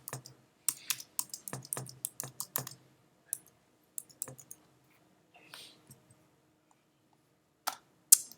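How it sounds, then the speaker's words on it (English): Name typed on a computer keyboard, close and fairly quiet: a quick run of crisp key clicks, then scattered single taps with pauses between them, a final click near the end. "type your name."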